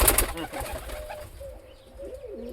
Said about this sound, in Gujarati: તો મિત્રો 10 જેવા કબૂતર હે અમારે પાળેરા હે મસ્ત મસ્ત